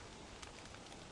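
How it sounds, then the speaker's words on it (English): Steady rain falls in a video game, a dense even hiss of drops across a short, quiet stretch with no voices. "I don't know why it's raining, it's fucking winter"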